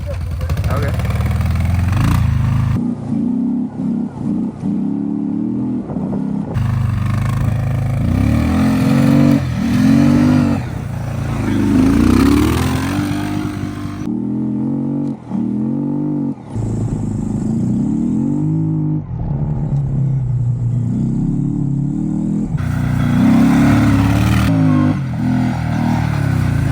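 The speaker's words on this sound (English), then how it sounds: "This thing's running and on both cylinders." A Kawasaki KFX700 ATV twin-cylinder engine runs close by, rumbling and swelling into repeated revs with pauses between, while a person talks over it much of the time.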